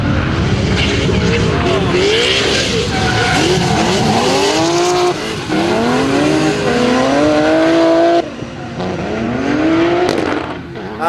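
A drift race car at a D1NZ drifting round at Manfeild, engine screaming through rising and falling revs as its tires squeal in long, loud skids, close and continuous, with brief gear-change dips.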